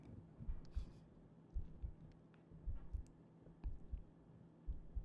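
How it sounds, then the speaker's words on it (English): Close-up ASMR heartbeat: soft, low, muffled lub-dub thumps in a steady rhythm of roughly one beat per second, intimate and quiet over a faint hum, with no talking. "Can you hear my heartbeat again?"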